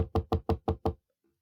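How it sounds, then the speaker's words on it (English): Six firm, evenly spaced knocks on a wooden cabin door, loud and close, followed by silence. "there was a knock on the cabin door."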